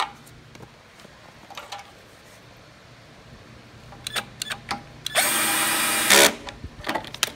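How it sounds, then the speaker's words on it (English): A power drill drives bolts back into a Murray lawnmower in one short, loud whirring burst of about a second. Scattered clicks and handling clatter come before and after it. "Do not use an impact. This is just a drill."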